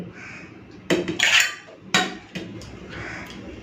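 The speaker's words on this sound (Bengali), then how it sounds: "বেশ ভাতের ফেনাটা গড়িয়ে ফেলেছি" A cooking pot clanks and scrapes in a few sharp bursts as starch water is poured off freshly cooked rice in a home kitchen, close and fairly loud against a quiet background.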